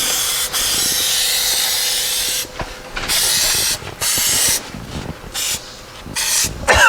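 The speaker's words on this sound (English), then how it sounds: "And spray that." An aerosol can sprays adhesive onto a new engine sound pad for a Porsche 912 rebuild, in several close hissing bursts of varying length separated by short pauses, with faint handling clatter between them.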